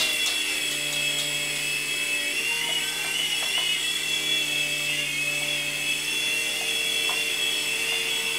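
Small indoor Protocol Tracer Jet 3.5-channel RC helicopter hovering, a steady high-pitched whine from its motor and spinning rotor, fairly close and continuous with faint clicks, no talking.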